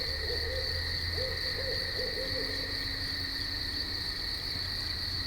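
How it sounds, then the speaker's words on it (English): An owl hoots in woods at night, a short series of soft low hoots in the first half, with a steady loud chorus of crickets and insects throughout. "Let's just pray that's a regular owl."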